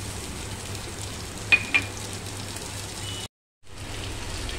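Cumin seeds and onions sizzle in hot oil for a mixed vegetable curry, a soft, steady crackling hiss with two brief clinks, cut by a short silent gap before the frying resumes.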